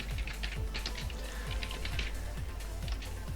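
Typing on a computer keyboard while entering a place name into a document, a run of quick, light key clicks at an uneven pace, fairly faint and close, with no speech.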